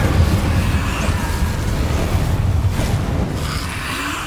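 A burst of fire from the Incendio spell cast in Hogwarts Legacy, a loud whooshing, rumbling blast that roars steadily and slowly fades over a few seconds.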